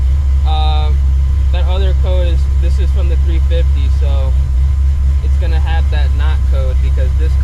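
A cammed, Procharged 1999 Mustang GT idles with a loud, steady, lopey low rumble throughout, while someone talks over it.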